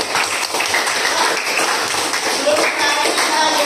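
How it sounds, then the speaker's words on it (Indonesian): A school class in Indonesia claps hands together, a dense steady patter of many hands filling the room while a voice speaks briefly over it. "Ayo tepuk tangan."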